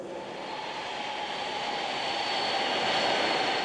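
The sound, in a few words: Boeing 747-400 jet airliner taking off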